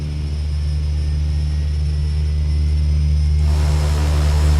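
A Beechcraft King Air B200 turboprop's left engine spools up in the X-Plane 10 flight simulator, a steady loud low rumble and whine that swells and brightens near the end.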